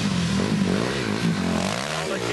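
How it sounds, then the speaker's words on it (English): A KTM dirt bike engine drones loud and close during a motocross race on a track, a steady buzzing rev with slight pitch wavers. "That KTM machine, him and Billy Morris got matching bikes."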